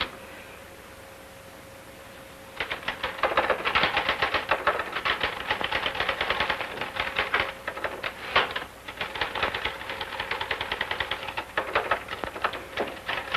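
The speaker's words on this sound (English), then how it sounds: "You're certainly making that typewriter say Uncle." Typewriter being typed on in a 1941 radio mystery drama, starting after a brief quiet pause, then rapid continuous key strikes with occasional carriage bell and return sounds, close and prominent.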